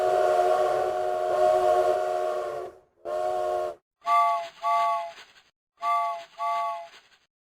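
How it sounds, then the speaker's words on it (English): A train whistle sounds in a video game, first as long sustained blasts and then as four shorter paired toots, loud and close with no talk over it. "Whoa, there's the train."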